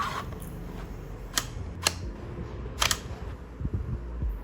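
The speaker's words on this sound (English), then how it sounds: "one thing I really nailed is the locking sound" A folder-shaped SSD case snaps shut with a few crisp, sharp locking clicks, close and distinct, followed by some softer handling taps against a faint background hum.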